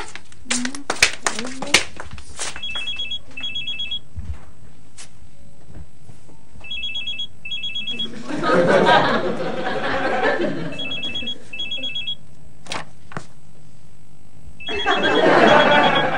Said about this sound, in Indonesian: Mia, telepon lu nih Mia.